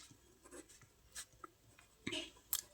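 Pen writing figures on paper or a board during an accounts lesson, a few brief scratchy strokes close by and fairly quiet, with no talk over them.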